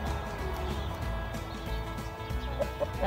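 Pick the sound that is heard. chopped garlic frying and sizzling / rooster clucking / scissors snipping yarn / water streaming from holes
rooster clucking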